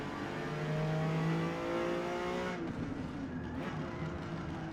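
Ferrari Dino engine in a Forza Motorsport race at Indianapolis, a loud, continuous, close engine drone that drops in pitch as it slows under hard braking, with the tone easing lower over the second half.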